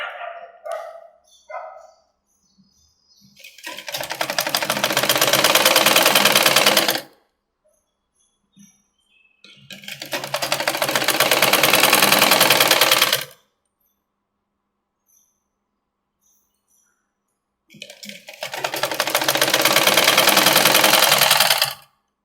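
A sewing machine stitches the side seam of a puff sleeve in three loud bursts of rapid needle clatter, each several seconds long, separated by near silence, with a few soft handling taps at the start.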